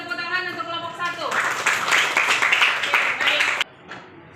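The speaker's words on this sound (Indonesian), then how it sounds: "kasih tepuk tangan untuk kelompok 1" A group of listeners bursts into clapping for the first team after a voice speaks, with dense applause lasting a couple of seconds before stopping abruptly.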